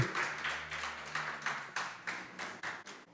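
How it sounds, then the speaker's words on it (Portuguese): A church congregation applauding the Lord during a service, with rhythmic, somewhat sparse clapping that pulses in regular bursts, moderately close and fairly quiet, with no speech over it. "Você pode aplaudir o Senhor aí?"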